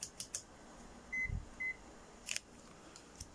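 Two short, clear electronic beeps from a continuity tester's buzzer sound close together in a quiet room, with a few faint clicks and taps before and after.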